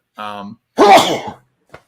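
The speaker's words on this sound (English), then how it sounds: "Sneezed." A single loud, close sneeze bursts out after a short vocal sound, followed by a faint click, with no talk over it.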